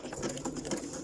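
Close and fairly quiet, a sewing machine stitches a zigzag seam across fabric for embellishment clusters in a brief, steady run of rapid needle taps.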